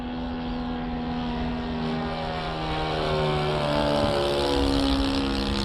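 An H-King PC6 Porter balsa RC plane on its maiden flight passing by, a droning propeller buzz with shifting pitch that swells louder as it approaches, no voices.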